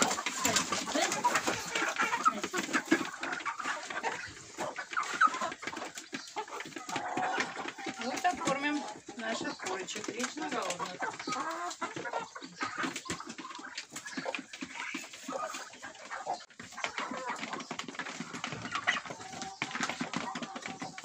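A flock of young hens clucks and chatters busily up close while eating mash at feeding time in a village, with pecking and scattered noises, while a person speaks over them.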